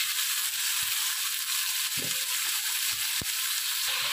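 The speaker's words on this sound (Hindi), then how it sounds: "लहसुन में थोड़ा चिकन को इसलिए पकाते हैं ताकि चिकन की स्मेल वगैरह ख़त्म हो जाए" Cubed chicken fries with garlic in a pan, a continuous close sizzle broken by a few brief knocks and scrapes.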